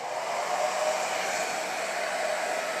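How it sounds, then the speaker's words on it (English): A hair dryer on low heat blows with a steady, even whoosh over an acrylic paint pour, running continuously and close by with no other sounds. "when we get our hair dryer, I'm going to turn it on low first"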